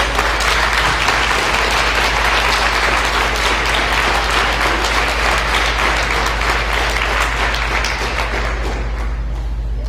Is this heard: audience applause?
yes